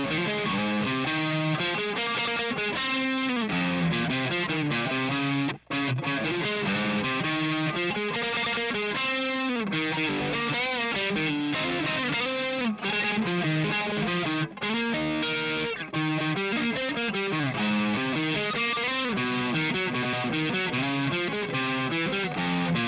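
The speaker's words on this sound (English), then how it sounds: "See how the neck sounds with this full distortion." Electric guitar played through the neck pickup with full distortion, a dense, continuous run of saturated chords and notes, loud and close with a thick low end and no talking.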